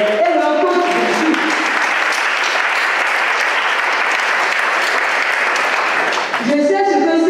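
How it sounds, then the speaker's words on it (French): At a youth leadership forum panel in Togo, an audience breaks into loud, sustained applause for students and their coach, a dense roar of clapping lasting about five seconds, with someone speaking briefly just before and just after. "je vous prierai d'applaudir pour ces élèves et leur coach aussi"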